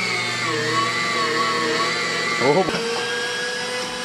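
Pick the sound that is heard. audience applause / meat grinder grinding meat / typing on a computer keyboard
meat grinder grinding meat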